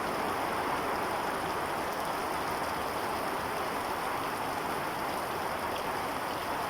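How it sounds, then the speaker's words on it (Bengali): Steady, dense rainfall pours down without a break, a heavy broadband hiss filling the whole clip with no voices. "প্রচুর বৃষ্টি হচ্ছে।"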